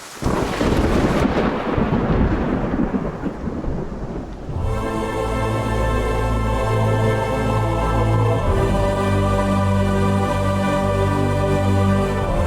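Heavy rain pours with rumbling thunder that rolls loudly at first, then gives way to a dense, steady downpour with a sustained drone, no voices heard.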